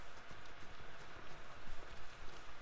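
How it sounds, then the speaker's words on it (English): Horse hooves clip-clop steadily at a trot in Ghost of Tsushima, a continuous rhythmic patter of footfalls blended with outdoor ambience, moderately loud and with no talking. "Hi, horsey."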